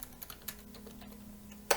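A few quick keystrokes on a computer keyboard while Django URL patterns are entered, soft and close, ending in one sharper key press.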